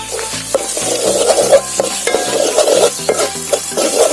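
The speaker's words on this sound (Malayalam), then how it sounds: "നന്നായിട്ടൊന്ന് ഇളക്കാം" Spiced chicken liver pepper roast fries in a pan with salt and masala, stirred in a quick repeated rhythm of scrapes and knocks over a continuous loud sizzle, close up, no voices.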